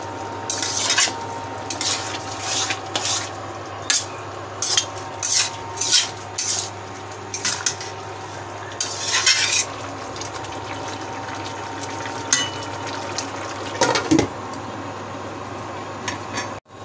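Banana stem curry with chickpea dal and garam masala being stirred and fried in a pan in a village kitchen, with repeated scraping and clinking of a metal spoon against the pot over a steady sizzle.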